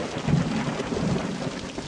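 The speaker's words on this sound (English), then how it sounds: "Oh, damn, the lightning sound and it's all extra." Rumbling thunder and steady rain from a storm in a nun-themed horror game on PS5, a continuous dense wash with low rolling booms throughout, no voices.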